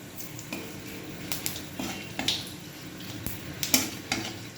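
Food lightly frying in a pan over a low gas flame, a faint sizzle beneath repeated clinks and scrapes of a utensil stirring against the pan.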